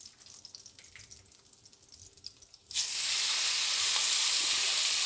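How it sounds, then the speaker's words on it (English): Meat dropped into hot oil already used in the pan for an Italian chili beef, breaking into a loud, steady sizzle partway through after quiet kitchen ambience. "Now on the same oil, I put the meat."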